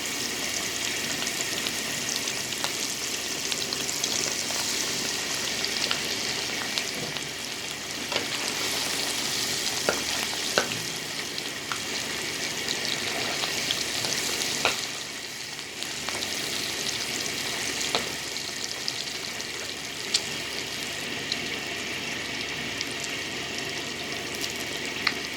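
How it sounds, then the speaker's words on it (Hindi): Spice-coated fish sizzles steadily in hot oil for a crisp fish fry, a loud, continuous crackling hiss with occasional sharper pops and spatters throughout. "अभी हम ऑयल में फ्राई करेंगे।"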